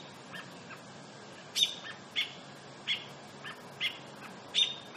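A bird calls in short repeated chirps, about five evenly spaced sharp notes over a quiet background.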